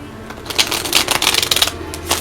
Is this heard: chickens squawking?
no